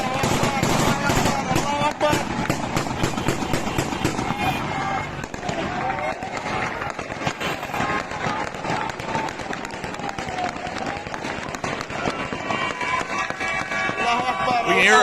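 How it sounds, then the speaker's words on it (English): Heavy celebratory gunfire crackles in dense, rapid bursts as a rebel convoy moves toward the outskirts of Homs, Syria, mixed with a noisy crowd, loud and continuous throughout. "We can hear a large amount of celebratory gunfire as the convoy is now moving on its way towards the outskirts of Homs."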